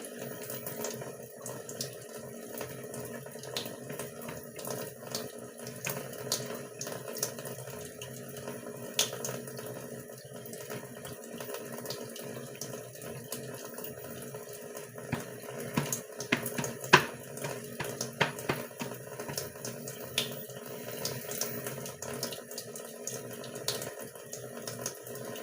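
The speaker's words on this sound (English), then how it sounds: "And use tissue to turn off the faucet." Water runs steadily from a faucet during hand washing at a sink, a continuous broadband hiss that holds at a fairly even level for the whole stretch, with no voices.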